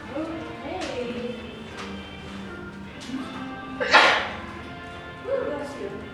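One sharp sneeze bursts out near the middle of a first-day classroom scene, set among people talking and a few soft knocks.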